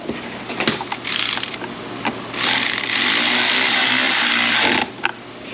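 Power tool whirring and ratcheting against a Chevrolet Silverado HVAC vent unit, short bursts and clicks followed by a long steady drive of a few seconds, close and fairly loud, no talk.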